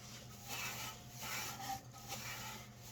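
A scraper rasping inside a Whitfield Profile 30/T300P pellet stove, soft repeated scraping strokes heard close but faint.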